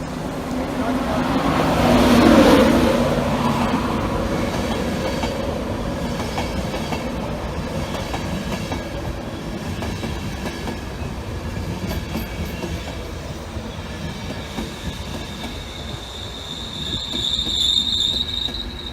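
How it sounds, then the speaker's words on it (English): A VTEC passenger train from London King's Cross to Leeds rumbles past at a station, its loud wheel noise swelling early and then holding as a long clattering roll with squealing wheels. Near the end a high squeal and a renewed swell rise. "It's 1110 VTEC service to Leeds from London King's Cross"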